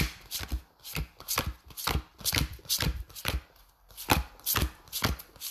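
A deck of tarot cards is shuffled and rearranged close up, with a rapid, even run of crisp papery slaps and riffles repeating about twice per second throughout.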